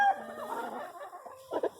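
A Brown Red gamefowl hen of the old McClanahan bloodline clucks softly nearby, with low murmured calls followed by a couple of brighter clucks near the end.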